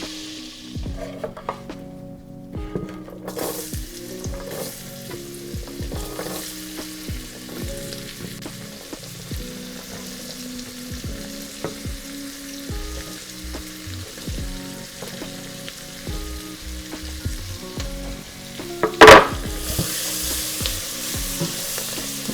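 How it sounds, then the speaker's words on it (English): Vegetables sizzling in melted butter in a pot for lobster bisque, a constant low hiss beneath faint pitched clanks and scrapes, with one louder clatter near the end. "Now that our butter is melted, we are going to be adding our vegetables."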